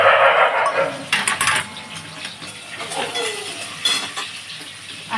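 Milk poured into a hot, sizzling pan while cooking egg korma, giving a close, steady frying hiss with stirring and clinks of utensils against the pan.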